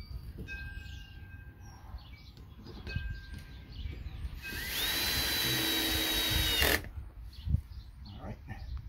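A power drill drives a screw into porch lattice in an outdoor dog area. It gives one loud, whining burst of about two seconds that stops abruptly, set between quieter handling noises and outdoor background.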